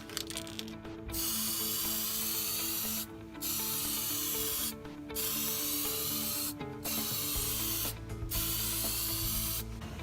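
Anti-corrosion aerosol coating is sprayed onto HVAC coil boards in several long hissing bursts, each lasting a second or two and separated by brief pauses, close and loud, with a rattling can in between and no talk.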